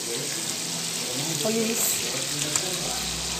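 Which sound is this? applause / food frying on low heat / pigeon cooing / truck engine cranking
food frying on low heat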